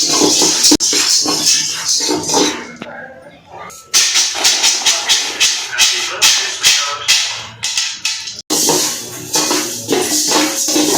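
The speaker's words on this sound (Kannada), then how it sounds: "ನಾನು ಸಾಸಿವೆನ ಹುರಿತಾ ಇದ್ದೀನಿ, ಮಿನಿ ಬಾಂಬ್ ಇದು." Mustard seeds roasting in a silver-coloured steel pan, giving rapid bursts of sharp crackles and pops with hissing, loud and close, under a person talking.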